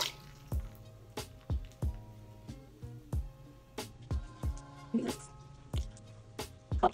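Water drips steadily while hands are wetted at a sink to wash a face. The drops fall close and clear in a regular rhythm of single plinks, with no talking.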